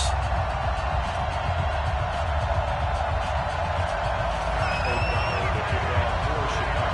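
Stadium crowd ambience from an EA Sports NFL video game on PS4 ahead of a Houston Texans versus Chicago Bears matchup: a steady, dense roar of many voices holds at an even level throughout, with a brief whistle-like tone near the end.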